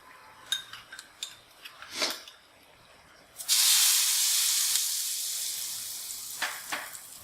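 Ratanjot dropped into hot ghee sets off a sudden bright sizzling hiss that starts loud and slowly fades, preceded by a few light clinks of utensils and followed by soft stirring taps near the end.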